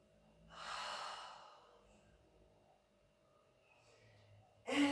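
One long, audible breath is exhaled during a yoga breathing exercise, soft and close, followed by quiet and a brief louder sound at the end.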